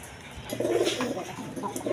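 Rasgolla pigeon with red-tinted feathering cooing in soft, repeated low calls, close and moderately loud over a faint background hiss, with no talking.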